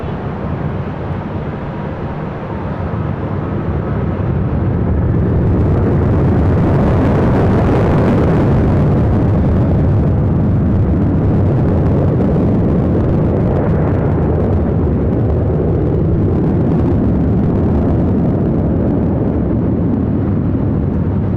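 Airliner taking off from runway 24 left at LAX, a broad jet roar that swells from a steady rumble into a loud sustained rush and stays strong for most of the stretch.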